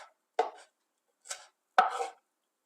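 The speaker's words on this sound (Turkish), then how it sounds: "Soğanlardan sonra 2 adet ince yeşil biberim var. Onları doğruyorum." A knife chops thin green peppers on a cutting board, three separate crisp cuts with a thud on the board, each short and close, separated by silence, the last slightly longer and louder.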